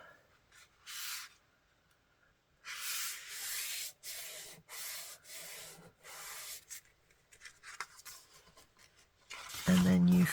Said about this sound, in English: So you take your paper, you fold it in half